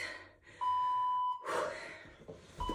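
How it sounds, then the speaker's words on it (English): A workout interval timer gives a long, steady electronic beep during a low-impact dumbbell strength session, followed by a brief breath and a second short beep starting at the end. "We're setting the timer."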